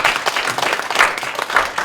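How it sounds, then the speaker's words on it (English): A final round of applause from a university audience for the Rinpoche at the close of a Buddhist Q&A session; brisk, uneven clapping with individual claps standing out, no talk on top. "can we give a round of applause to the Rinpoche one last time?"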